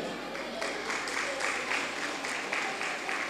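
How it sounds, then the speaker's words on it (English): Audience clapping at a school annual day celebration in Tamil Nadu, heard as a fairly faint, steady patter of many hands that continues throughout with no clear break. "Madam is here, clap for her."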